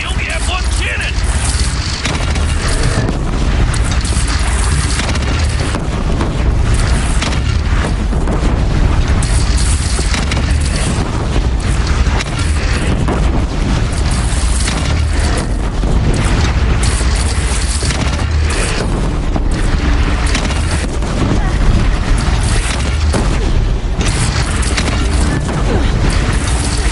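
Heavy cannon fire and explosions boom repeatedly in the video game Horizon Zero Dawn, loud and dense throughout, with rumbling blasts layered over battle noise.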